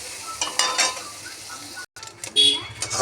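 Tilapia fish frying in a pan in a home kitchen, a close sizzle broken by clinks and scrapes of a utensil against the pan, with a brief drop to silence midway.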